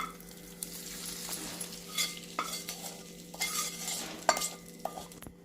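A spoon stirs gongura mixture through pulihora rice, soft scraping and shuffling with occasional clinks against the vessel, close and quiet with no talk.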